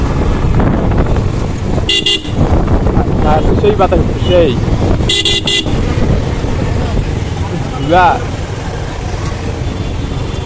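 Jammed traffic on a dusty road in Rangpur, with a constant rumble of engines and wind buffeting the microphone, short car horn toots near the two- and five-second marks, and someone talking over it.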